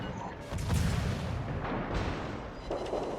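Naval guns of a tier 8 warship firing in World of Warships, heavy booming salvos and rumbling blasts layered over continuous low game ambience.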